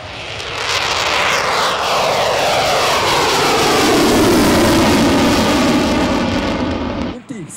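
A Spitfire propeller fighter makes a loud, sustained engine roar as it flies past at an airshow, the pitch sweeping down as it passes before cutting off abruptly near the end.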